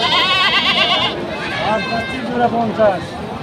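Goats bleat repeatedly at a busy goat market, several calls rising over a constant hum of crowd chatter and talk from nearby people.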